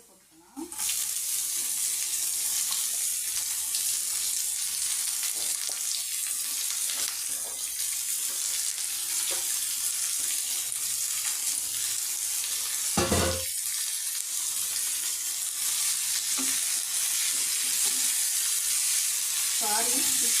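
Greens tipped onto golden fried onions and stirred in a hot pan, a loud continuous hissing sizzle throughout with a brief scrape or clatter partway through.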